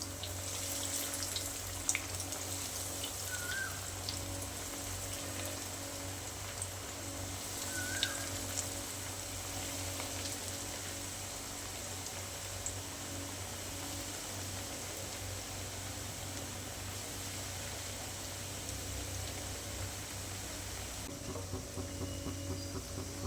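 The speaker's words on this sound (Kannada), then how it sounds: "ಎಣ್ಣೆ ಕಾದ ನಂತರ ಆ ಎಣ್ಣೆಗೆ ಒಂದೊಂದೇ ಬಿಡ್ತಾಯಿದ್ದೀನಿ ಇವಾಗ" Bread potato nuggets dropped one by one into very hot oil and deep-frying, a steady fine crackling bubble with a constant hum underneath, moderately close and unbroken by speech.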